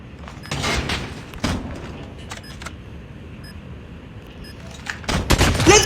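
Gunfire in a Call of Duty Mobile match: a few sharp broadband shots scattered across the clip, the last burst loudest, over a steady low game-ambience rumble with no talk.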